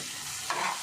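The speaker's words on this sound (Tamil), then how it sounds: "சிம்மிலே வச்சு வதக்கலாம்" Okra sautéing in ghee in a pan over low heat for a crispy Tamil stir-fry, a steady close sizzle with a brief stirring scrape near the end.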